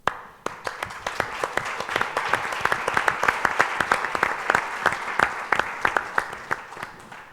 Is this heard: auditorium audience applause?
yes